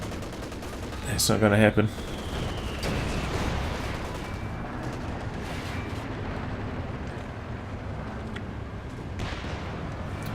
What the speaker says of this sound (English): there are all sorts of machine guns over here